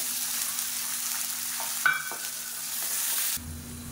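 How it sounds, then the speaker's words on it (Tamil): About three-quarters of a cup of garlic sautéing in a pan for garlic chutney, a steady close sizzle with one brief clatter midway and a change in the hiss near the end. "பூண்டு நல்லா வதங்கிட்டு இருக்கு."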